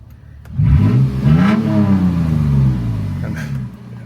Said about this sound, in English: Maybe I'll show you the exhaust real quick.